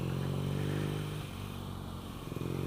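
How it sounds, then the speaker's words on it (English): A 2016 BMW R NineT boxer twin fitted with an Akrapovic exhaust idles close by, a steady, deep, throbbing rumble with a lumpy low pulse that holds even throughout. "Quite a visceral experience just starting it, idling it. Has a lot of lateral motion to the boxer engine."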